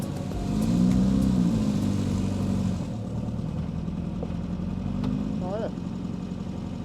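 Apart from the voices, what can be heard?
1981 Formula Subaru race car engine driving on track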